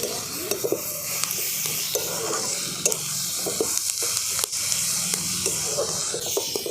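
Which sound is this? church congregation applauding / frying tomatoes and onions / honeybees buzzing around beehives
frying tomatoes and onions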